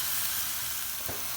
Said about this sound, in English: Once your meat is fully dry, you're gonna toss it right here on your cooking pan.